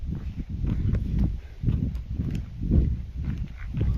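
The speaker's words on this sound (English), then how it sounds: "Horse and a sheep." A horse on a walking path in Holland, its hooves clip-clopping in a steady close rhythm for a few seconds with no talk over it.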